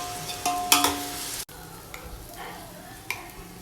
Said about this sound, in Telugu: గ్రీన్ చిల్లీ అంతా కూడా బాగా కలిసేటట్టు ఫ్రై చేసుకోవాలండి